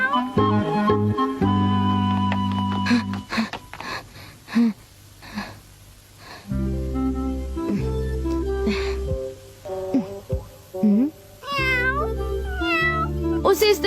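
Cartoon cat meowing in a Doraemon episode, several short mewing calls set over a steady musical score, with pauses and sudden louder passages between them.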